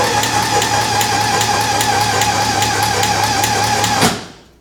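An engine cranks over steadily on the starter during a compression check, with a loud, even rhythmic chugging that runs for about four seconds before it stops abruptly and fades out.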